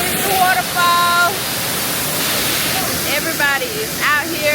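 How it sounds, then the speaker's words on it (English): A waterfall in a natural outdoor spot gives off a constant loud broadband rush, with people's voices and chirping birds heard over it. "It took a whole freaking lot to get down here. But this is the waterfall."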